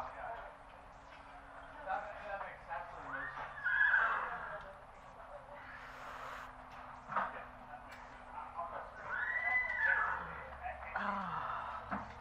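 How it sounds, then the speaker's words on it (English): Horses whinny inside a steeplechase barn at the Far Hills races, with two loud, clear neighs rising over a background of people chatting nearby. "Oh, we got Fisher's horses in."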